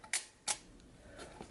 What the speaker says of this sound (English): one of the weird things about this camera is that the shutter is actually down